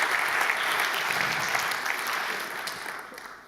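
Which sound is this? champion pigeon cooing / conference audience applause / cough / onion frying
conference audience applause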